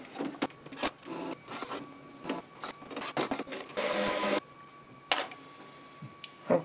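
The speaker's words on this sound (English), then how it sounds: "So we'll plug the printer back in." An Epson 1400 printer running after being plugged back in, giving off rapid mechanical clicks, whirs and carriage movements in uneven bursts, close and fairly loud with no talking.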